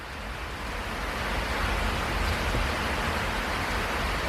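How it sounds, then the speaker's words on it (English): Steady rain falls outdoors during repair work on a 1972 Dodge Challenger, a constant, even hiss that swells slightly and then holds without a break. "again it started to rain, so sorry for the noise"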